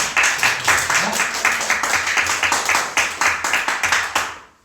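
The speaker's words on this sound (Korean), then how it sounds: "우리 서로 환영하고 한번 격려의 박수 한번 할까요?" A church congregation at a Sunday worship service claps in a steady rhythmic round of welcoming applause, fairly close and even, fading out at the end.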